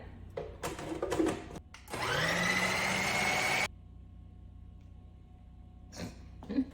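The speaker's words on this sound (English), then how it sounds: "Let's blend it together." A kitchen blender whirs loudly for about two seconds, blending peanut butter, maple syrup and beans into an energy-bite mixture. Shorter bursts and handling noises come before and after it.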